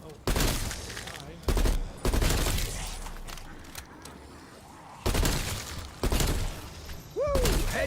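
Bursts of gunfire on the Die Maschine zombies map, several loud automatic volleys separated by short pauses, close and sharp, with a voice speaking between shots.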